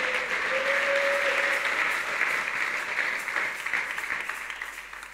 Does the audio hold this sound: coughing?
no